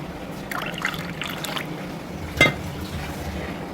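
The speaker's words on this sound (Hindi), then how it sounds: "अब हम जो है ग्रेप फ्रूट का जूस डिश आउट करेंगे एक बड़े से मग में" Grapefruit juice trickles and pours into a large mug, a soft liquid splash with a brief louder burst partway through, close by and without talk.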